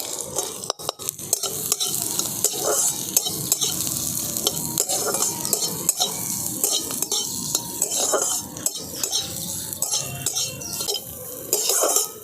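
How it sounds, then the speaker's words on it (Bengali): Small chopped carrot pieces sizzle in a pan with little oil as a utensil stirs and scrapes them, producing repeated metallic clinks and scrapes over a constant frying hiss, close and fairly loud. "দেখুন গাজরটা হালকা করে ভেজে নিয়েছি"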